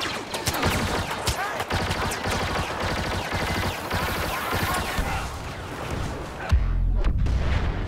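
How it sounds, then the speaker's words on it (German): Dense, continuous battle noise of explosions and heavy gunfire in the video game Star Wars Battlefront, loud and rapid throughout, ending in a deep low rumbling boom. "Nuklear-Explosion ohne Ende."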